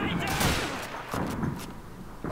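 Gunfire in the World War II shooter Call of Duty 2, with British special forces fighting in a town. A few sharp shots and bursts crack out across the short span, mixed with battle noise, while someone talks over them.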